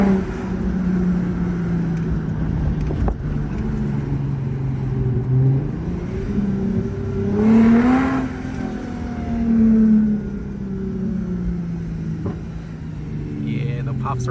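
A Lexus IS350 with a straight-pipe exhaust revs in city traffic, its deep drone rising and falling through several swells while a person talks over it from inside the car.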